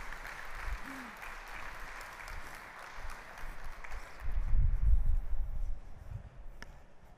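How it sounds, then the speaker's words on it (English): Audience applause welcoming Elisabeth, Germany's top female chess player, onto a stage, a soft, distant patter of clapping that swells slightly midway before thinning out, with faint low rumbles underneath. "Please give me a big round of applause for Elisabeth."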